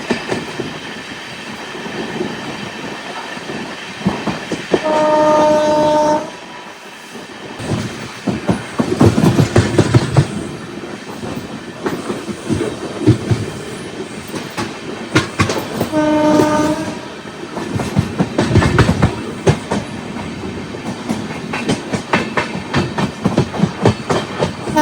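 Kozhikode Jan Shatabdi Express with brand-new LHB coaches rolls past loud and near, steady wheel clatter and rumble broken by two long horn blasts.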